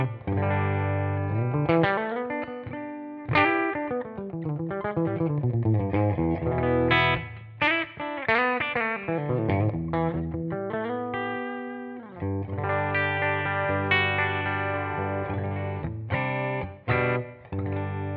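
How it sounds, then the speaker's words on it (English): A Les Paul on its bridge pickup plays a clean tone through a Kemper amp profile: chords and melodic phrases ring out continuously with steady strumming and a few brief pauses, loud and up close, with no talking. "Here's the clean tone. I'm just going to use my Les Paul here on the bridge pickup."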